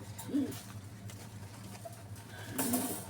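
A pigeon from an aviary collection coos twice, close by, with a soft throaty burst near the start and another near the end over a steady low background hum.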